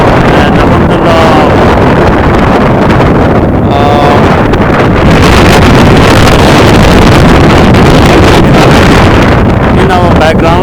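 Strong wind buffets the microphone in the open air beside the Jamawat mountains in Aqeeq Valley near Madinah, a loud continuous roar that drowns out someone talking.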